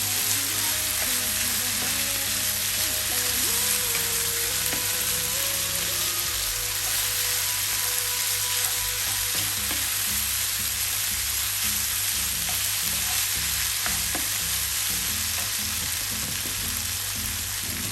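Tablespoon of butter sizzling and frying in a pan for Jamaican callaloo and saltfish, a steady close crackle that runs throughout with faint stirring, no speech.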